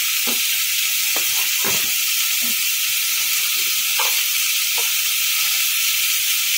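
Pointed gourd and tomato frying in a pan give a steady close sizzle and hiss, broken by a few soft scrapes and knocks of stirring.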